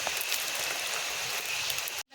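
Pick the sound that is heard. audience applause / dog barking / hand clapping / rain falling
rain falling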